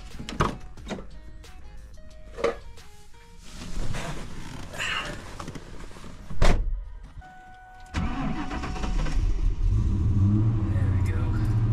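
A Ford Mustang Mach 1 convertible engine starts with a sharp crank and catch, then settles into a loud, steady idle; door thunks and talk come before the start.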